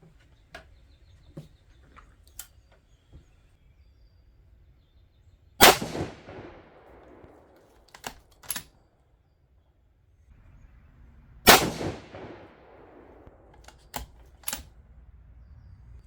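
Two loud, sharp 6.5 Creedmoor rifle shots from a rifle fitted with a barrel tuner, each followed by a short decaying echo, separated by quiet stretches with faint clicks and clanks of handling.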